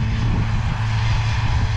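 A Ford 8210 tractor engine droning steadily at close range, a loud low throbbing hum that holds constant with no speech over it.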